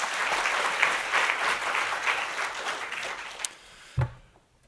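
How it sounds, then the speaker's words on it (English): Full round of applause from a conference audience welcoming a panel, steady clapping that tapers off and stops, followed by a brief thump near the end. "Big hand of applause, please,"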